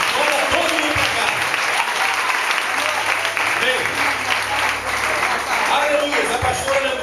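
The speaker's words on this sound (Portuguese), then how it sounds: "Aplauda o Senhor, fala, Jesus manda tudo para cá" A church congregation claps steadily and densely through the whole stretch, with a preacher's voice speaking over the sustained applause.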